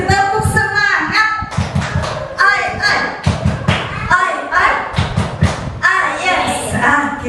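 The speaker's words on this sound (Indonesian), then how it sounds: "Tepuk semangat." A group of young kindergarten children and adults clap together in a cheer rhythm during a school session, loud and close, with chanting voices and speech layered over the beats.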